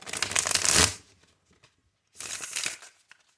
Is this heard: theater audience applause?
no